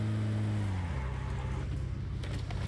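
Car driving in the mobile game PUBG Mobile: a steady engine drone whose pitch drops partway through as the vehicle shifts, then runs on with faint rustling and a brief bump at the end.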